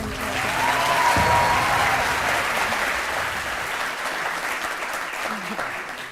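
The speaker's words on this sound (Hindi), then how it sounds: "तो आलिया के बहुत सारी तालियां।" Studio audience applause on a Hindi television court-style talk show, a loud sustained burst of clapping that swells early then holds steady, with faint voices underneath.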